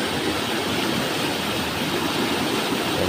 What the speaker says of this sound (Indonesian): kembali lagi menikmati suara air